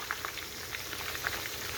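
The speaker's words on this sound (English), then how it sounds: "You're just frying them a little bit so they get crisp." Chicken wings frying in hot oil for hot spicy garlic lemon pepper wings, giving a steady, dense crackle and sizzle with scattered brighter pops throughout.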